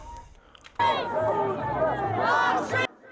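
A crowd at a protest in Liverpool with police holding people back as UKIP arrive, a sudden loud surge of shouting and jostling voices close by, sustained for a couple of seconds before cutting off.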